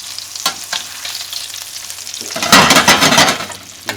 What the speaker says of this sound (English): Now we're going to flip them quickly.